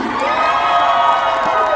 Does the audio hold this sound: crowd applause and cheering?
yes